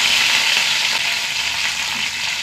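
Curry leaves and dried red chillies sizzle in hot oil, a loud continuous hissing crackle that stays close and even from start to finish.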